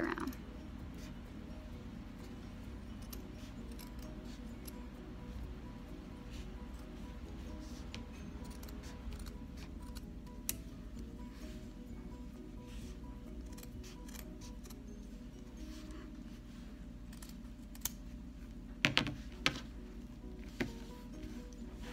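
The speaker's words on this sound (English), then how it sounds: "You can stick your scissors and" Scissors snipping through felt for a birthday banner, quiet repeated cuts with a few sharper clicks near the end, over a low steady room hum and no talking.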